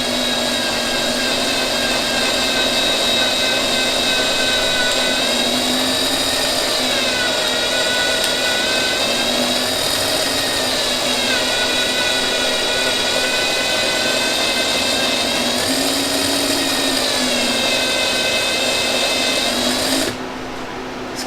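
A power drill bores steadily into a wooden shutter, a sustained high whine that rises and dips in pitch as the bit is worked in and out, continuous for about twenty seconds before cutting off.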